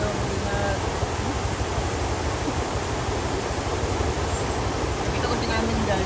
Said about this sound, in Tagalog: Malakas talaga yung current ng water.